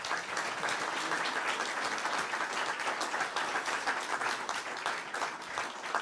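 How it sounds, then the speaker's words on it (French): Conference audience applauding the speakers after a session, a dense, steady wash of many hands clapping at once, sustained and fairly loud for the whole stretch with no voices above it. "Je vous propose de les applaudir beaucoup plus fort que la salle d'à côté."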